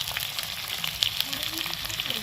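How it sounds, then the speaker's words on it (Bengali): Onion, garlic and potatoes fry together in a pan with a steady, close sizzle and crackle that runs evenly throughout, with no talking over it. "এগুলো একসাথে সব কটা ভেজে নেবো"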